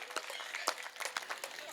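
Scattered claps from an audience at a Hindi comedy poetry recital (hasya kavi sammelan), a light, uneven patter of hands rather than a full roar, with a voice talking over it.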